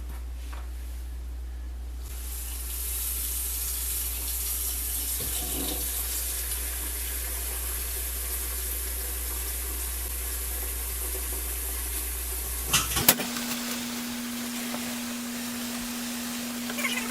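Water pouring into the tank of a Bissell Pet Pro Heat carpet cleaner through a small spout: a steady hissing rush of running water for over ten seconds, then it stops with a clunk and a low hum remains.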